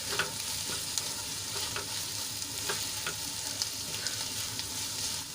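Spice masala sizzles steadily in a hot pan for a methi-papad sabzi while a spoon stirs it, with soft scraping clicks and small taps scattered over a continuous frying hiss; no voices.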